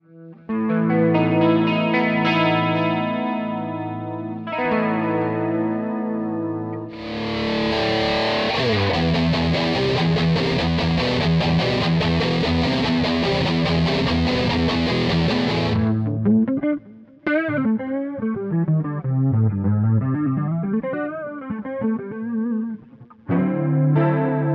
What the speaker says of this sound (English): the all-mahogany body and neck deliver the classic Les Paul sound